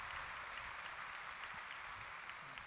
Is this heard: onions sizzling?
no